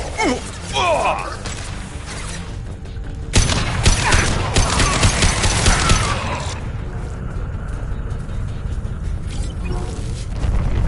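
Mass Effect 2 combat with a burst of gunfire and crashing impacts in the middle, preceded by a sweeping whoosh and followed by lingering mechanical rumble; brief voice fragments appear amid the action.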